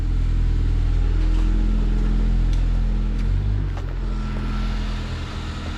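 Acura TL fitted with a new Si aftermarket exhaust pulls away, a loud steady low exhaust drone with a brief rev shift midway, close by and alone.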